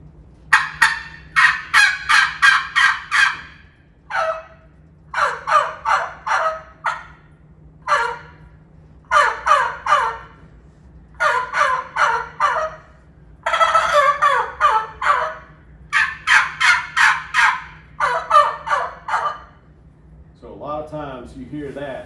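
A tube call imitates a turkey gobble: repeated loud, close bursts of rapid rattling gobbles, about a dozen in sequence, with a voice beginning near the end.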